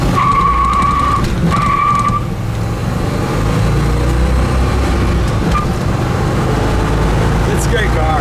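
A 1965 Chevrolet Malibu convertible with a 327 engine and manual transmission accelerating hard and shifting up through the gears. A loud, steady engine roar with brief changes in tone at the shifts, and a short whine near the end.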